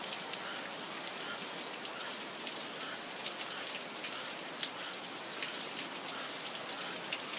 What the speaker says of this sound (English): Listen to the rain, look at the rain fall, and listen to those frogs begging for more.